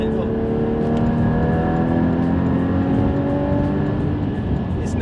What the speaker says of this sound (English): it's nice to be back in a car that's got a manual box, a flat 6 engine, and a howling exhaust in the back